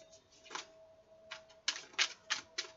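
Tarot cards riffle and slap in short separate bursts, about six quick crisp flutters close by, with a faint steady tone beneath and no talking.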